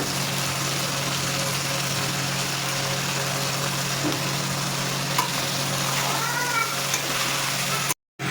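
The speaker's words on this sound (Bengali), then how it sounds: "হলদি দিয়ে দিচ্ছি, লবণ দিয়ে দিচ্ছি" Mutton sizzles loudly in a pan as turmeric and salt go in, a dense, continuous frying hiss close up, with no voices, cutting out briefly just before the end.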